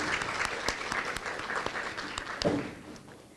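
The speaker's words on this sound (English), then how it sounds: "If we could just give them a round of applause." An audience at a literacy council meeting gives volunteer tutors a round of applause, with dense, steady clapping of many hands that stays moderately loud, then thins toward the end.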